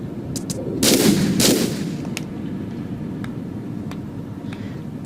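Gunfire in the Tomb Raider IV video game: two loud, closely spaced shots or bursts near the start, followed by scattered faint cracks over a low ambient rumble.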